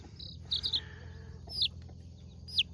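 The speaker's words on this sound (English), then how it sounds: "Hey there, little baby chicken." Young Rhode Island Red chicks with a broody hen on a farm, a few high, thin peeps and chirps in short bursts over a soft background, fairly quiet and close.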